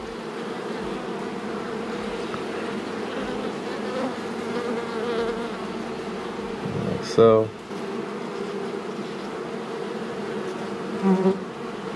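Honey bees buzzing steadily at close range as they are handled one by one for queen bee shipping, with someone speaking briefly and a couple of sharp handling bursts.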